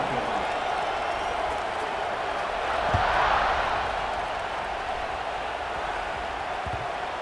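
A steady roar of a stadium crowd at a college football kickoff, Texas A&M, with broad cheering noise that swells briefly in the middle and stays loud throughout.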